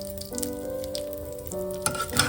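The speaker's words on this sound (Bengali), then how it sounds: "দুটো শুকনো লঙ্কা ফোড়নে দিয়ে দিলাম।" Two dried red chillies sizzle in hot oil for tempering, a close, crackling fry with brief sharper spits toward the end, over a faint steady hum.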